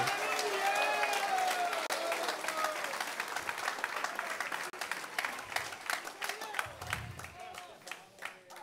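A church congregation breaks into sustained applause of praise, a dense wash of many hands clapping that gradually thins into scattered claps, with voices calling out and talking beneath it.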